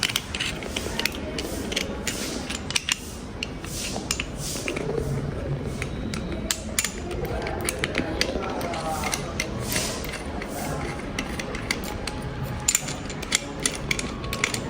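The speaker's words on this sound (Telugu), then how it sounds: "ఇప్పుడైతే ఫస్ట్ దీనికి స్క్రూ వేసి పెట్టేద్దాం" Screw being driven into a plastic phone holder, giving steady close ratcheting and clicking mechanical sounds throughout with small snaps and creaks.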